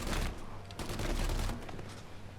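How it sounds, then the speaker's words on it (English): Tommy gun fire from Mafia: Definitive Edition rattles in rapid bursts. Two dense volleys of shots are separated by a brief pause, with a distant, moderately quiet tone. "Tommy gun's cool, but, you know,"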